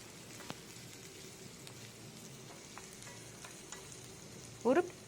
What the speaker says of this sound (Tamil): நல்லா பொடியாக நறுக்கி வச்சுருக்கிற பெரிய வெங்காயம் அதையும் சேர்த்து நல்லா வதக்கிக்கோங்க